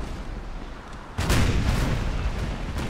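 Naval cannon fire in the game Napoleon: Total War, with a sudden loud booming burst at about one second that rolls on into sustained heavy gunfire and rumbling over a steady battle din.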